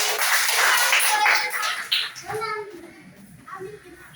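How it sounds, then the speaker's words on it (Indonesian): Elementary school children clap for a classmate in a classroom, a short burst of scattered claps that fades as a voice and chatter take over. "tepuk tangan untuk Raffi"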